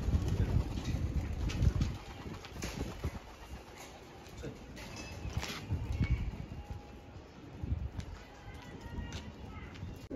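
A pair of pigeons kept in a loft, cooing in low soft bursts close by, with rustling and handling noise and someone talking over them.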